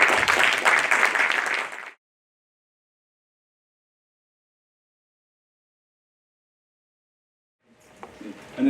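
Dense audience applause greets a professor at a lecture on the Middle East and fades out after about two seconds; a long silence follows before clapping rises again near the end.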